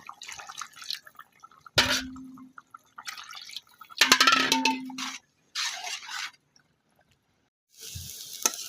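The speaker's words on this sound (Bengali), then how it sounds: "এখন আমি একে একে পানি দিয়ে দিচ্ছি" Water is poured in several separate splashing bursts into a cooking pot of braised chicken in a village kitchen, with short quiet gaps between the pours.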